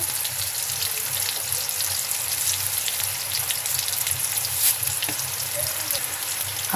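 Onions and salt frying in hot oil in a pan for a Bengali hilsa and black cumin curry, giving a steady, close sizzle and crackle that runs unbroken throughout.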